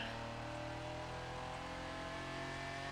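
A sports car engine in The Crew 2 video game drones with a throaty, muffled tone, holding a steady rev throughout with no voices.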